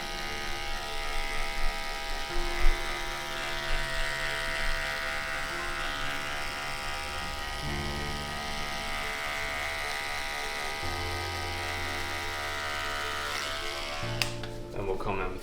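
An electric hair clipper used on a skin fade, giving a steady, close, even buzz that runs the whole time with a brief rattle near the end.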